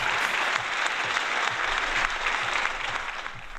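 Steady applause at the closing session of a Python programming conference, a continuous moderately loud patter of many hands that eases off slightly near the end.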